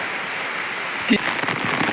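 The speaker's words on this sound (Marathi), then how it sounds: "आज पण भरपूर पाऊस आहे" Heavy rain falls steadily in a village yard, an even hiss of rainfall with one brief louder burst of sound partway through.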